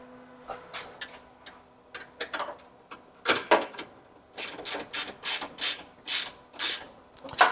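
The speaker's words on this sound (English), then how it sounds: "And let me grab a wrench." Ratchet wrench clicking in repeated bursts while nuts are tightened during a supercharger install on a square-body truck, the rapid ratcheting close and fairly loud with short pauses between strokes.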